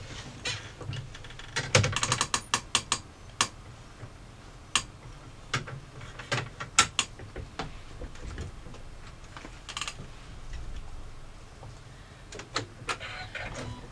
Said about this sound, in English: we're only going to be stitching across the top line here